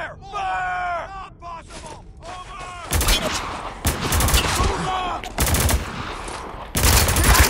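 Video game gunfire from Spec Ops: The Line: heavy automatic bursts and rapid shots crackle loudly through most of the clip, mixed with shouting voices and combat yells.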